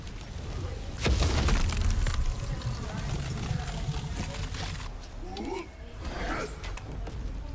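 An explosion erupts near a boss in a video game, a loud booming burst followed by rumbling debris and softer game effects, while someone talks over the action.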